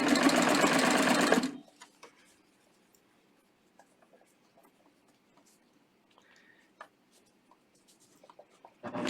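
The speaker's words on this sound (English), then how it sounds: "I just stitch an inch maybe, and then I match my edges again" A serger machine running fast and loud while hemming a band onto fabric, a continuous mechanical whir for about a second and a half, then quiet with faint handling clicks and rustles of the cloth.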